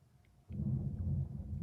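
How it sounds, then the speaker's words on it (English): A deep, low rumble of distant thunder swells in suddenly and rolls steadily, fairly faint, with no voices over it. "Ooh, thunder."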